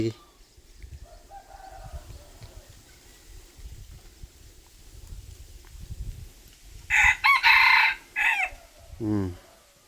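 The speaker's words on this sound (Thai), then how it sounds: "ไก่ป่าF1" An F1 junglefowl hybrid rooster crows loudly close by, one long cock-a-doodle-doo near the end followed by a shorter call, with quieter clucking and someone talking in the background beforehand.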